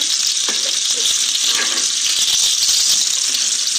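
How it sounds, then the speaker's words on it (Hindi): Onions fry in hot oil for a tempering to top haleem, a steady close sizzle that holds evenly throughout with no talking. "प्याज डाल दी है तेल में"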